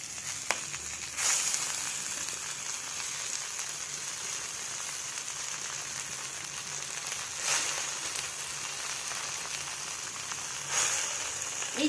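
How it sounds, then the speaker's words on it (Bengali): Susni greens (shak) dropped onto onion and chilli in hot oil give a steady, faint sizzle and crackle, with a few brief louder spatters. "পেঁয়াজ লঙ্কার উপরে আমি শাকটা দিয়ে দিচ্ছি।"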